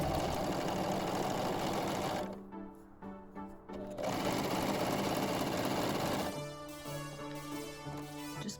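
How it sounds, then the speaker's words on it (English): A serger sewing machine stitches a T-shirt neckline in steady, fast mechanical runs, pausing briefly in the middle before a lower, humming run resumes, close and fairly loud. "You do not want to sew over them with a serger."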